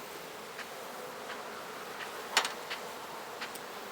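Honeybees from a freshly opened beehive hum in a faint, steady drone, with a few brief louder crackles or taps breaking through partway.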